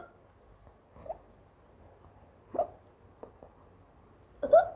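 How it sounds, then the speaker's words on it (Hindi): A woman's real hiccups, three or four sharp, short catches of breath spaced a second or two apart against a quiet room, the last one loudest. "मुझे हिचकी इतनी आ रही है ना"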